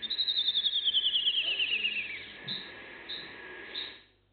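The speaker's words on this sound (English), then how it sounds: "this is a Kenyan wren. It's a small songbird that sings beautifully." A Kenyan wren, a small songbird, gives a faint, high descending trilled phrase followed by three short, separate chirps near the end.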